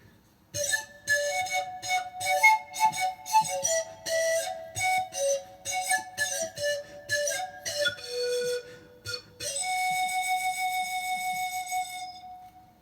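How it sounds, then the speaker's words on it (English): El Rondador, a bamboo pan flute from Ecuador, plays a lively run of short breathy notes close up, then ends on one long sustained tone. "And then we have the El Rondador from Ecuador, and sounds like this."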